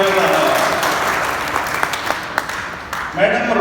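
An audience at a live comedy stage show claps loudly at first, then the applause thins into scattered claps and fades before a brief swell near the end.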